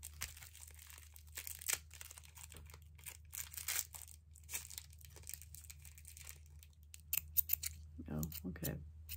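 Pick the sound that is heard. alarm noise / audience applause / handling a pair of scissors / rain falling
handling a pair of scissors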